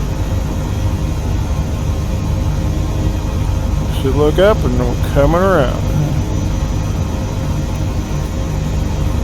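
Inside an H160 helicopter in Microsoft Flight Simulator, a continuous loud rotor and turbine drone fills the background, steady and close, while someone talks over it for a couple of seconds midway.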